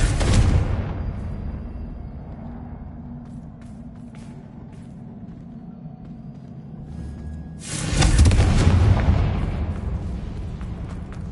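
A Confringo blasting spell in the Hogwarts Legacy video game erupts in a loud, sudden explosion, followed by a rumbling fade. A second big blast bursts out several seconds later.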